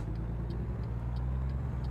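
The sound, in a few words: truck passing in video game American Truck Simulator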